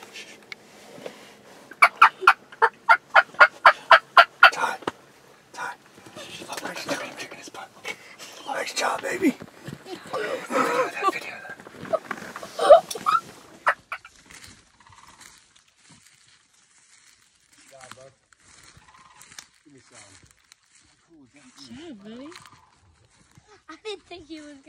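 Wild turkeys gobble in a rapid, loud run of repeated calls early on during a turkey hunt outdoors, followed by whispered talk, rustling and fainter distant bird calls.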